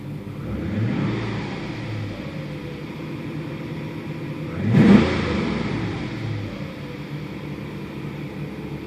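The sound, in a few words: 1987 Porsche 928 S4 engine revving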